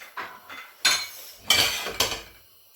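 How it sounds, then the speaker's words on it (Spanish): Rice tipped into a frying pan still greasy from sautéed meat, heard as a few distinct rattling, clattering bursts of grains and utensil against the pan, fairly close with short pauses between, no talk. "Tenemos el arroz, que lo vamos a echar en la misma sartén"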